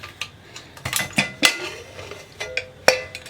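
A pressure cooker of rice payasam being opened, sharp metallic clinks and clanks of the lid and vessel, about a dozen short close knocks with quiet gaps between.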